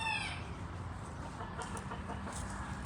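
Backyard chickens, including a breed that lays blue eggs, give a few soft clucks and a short call at the start over low farmyard background noise, fairly faint and with no talk.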